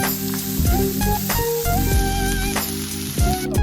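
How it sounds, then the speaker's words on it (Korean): Diced beef stir-fries in olive oil in a pan over high heat, a loud continuous sizzle broken by repeated scraping and knocking from the utensil against the pan. "올리브유 한 큰술 팬에 두르기 강불에 1분간 소고기를 볶아줍니다"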